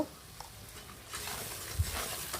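Spice paste with turmeric and salt stirred and fried in oil for a Bengali tilapia curry, soft scraping and a low sizzle close by, growing busier partway through, no talk.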